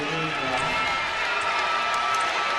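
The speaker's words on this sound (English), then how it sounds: "the extra cheer you hear is for number 17 in white" An arena crowd roars in a steady wash of cheering at a professional basketball game, Idaho Stampede at Santa Cruz, beneath an announcer talking over it.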